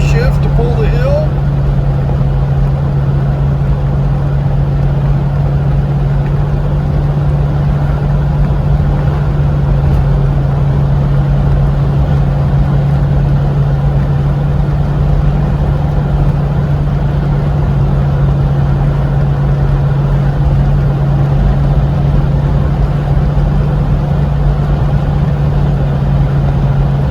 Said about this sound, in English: there's a downshift to pull the hill